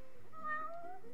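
A cat in the video game Final Fantasy XV gives a single short, soft meow with a slight rising-falling pitch, heard alone and fairly quiet.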